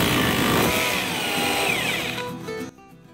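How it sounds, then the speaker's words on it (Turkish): An impact drill in hammer mode bores through ceramic wall tile with concrete or brick behind it. It gives a loud, rough grinding whine for over two seconds, then spins down and stops abruptly. "darbeli delme moduna alıp şöyle bu konumdayken arkasında beton veya tuğla ne varsa rahatlıkla delebiliriz"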